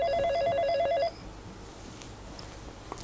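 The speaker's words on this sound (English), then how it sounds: "It's weird. I never get phone calls, especially not on this one here." A telephone rings in a warbling electronic trill for about a second, then cuts off, leaving quiet room tone with a faint click at the end; nobody talks.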